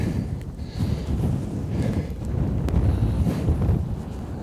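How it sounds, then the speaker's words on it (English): Cold, gusty wind buffets the microphone near the rocky peak of Haytor on Dartmoor, a loud rumbling roar that swells and eases with each gust, with no other sound. "Wow, it's cold and blowy."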